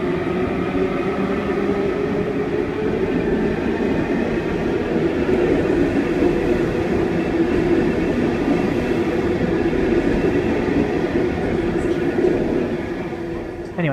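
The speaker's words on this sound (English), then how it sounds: "Waratah A13, departing platform number 1, Epping service." A Sydney Trains Waratah A-set electric train rumbles steadily close by as it departs Chatswood station platform 1 at night, a continuous low mechanical drone and faint rail noise, tapering off slightly near the end.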